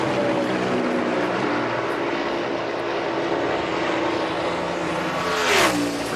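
A NASCAR stock car engine on a qualifying lap at speed, a loud continuous engine drone with rising and falling pitch as the car works through the corners, swelling briefly near the end as it passes close.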